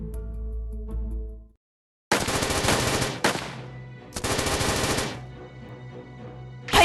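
Rapid automatic gunfire from a fantasy video game battle against elves, coming in two long, loud sustained bursts after a brief lull, with no talking.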